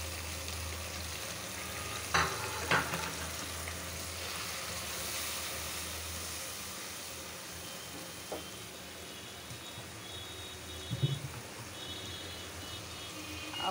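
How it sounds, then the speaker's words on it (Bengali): Chilli, turmeric, ginger-garlic and salt masala frying in oil for a tilapia fish-head curry, heard as a low steady sizzle with a few faint stirring knocks. "মশলাটা একটু কষানো হোক"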